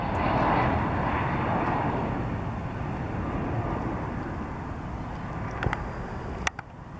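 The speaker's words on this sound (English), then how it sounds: "This Boeing 767 was landing at an airport in Brazil, but came in low and almost hit the mountain wall before the runway." A Boeing 767 airliner coming in low on approach to land at a mountain-walled airport in Brazil, a broad steady engine roar with rushing air, fairly loud and easing slightly, with a couple of sharp clicks near the end.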